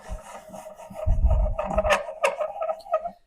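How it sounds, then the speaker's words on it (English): Loosening a vise on a mini portable workbench whose plate is attached with adhesive to wood and metal: close scraping and rubbing with a few knocks and rattles over about three seconds. "as I loosen the vise, the plate doesn't move on its own"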